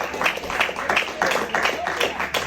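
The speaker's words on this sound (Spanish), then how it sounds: "Un aplauso al Señor, hermano." A church congregation applauding during a Spanish-language Christian service, with rhythmic clapping pulsing in regular beats, some voices mixed in under the claps.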